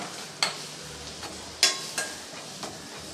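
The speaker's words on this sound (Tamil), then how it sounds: "இந்த எண்ணெயிலே நல்லா வதக்கி விட்டுறலாம்." Egg puff masala sautés in oil in a pan, with a spoon scraping and tapping against the pan in a few sharp, scattered strokes over a soft sizzle.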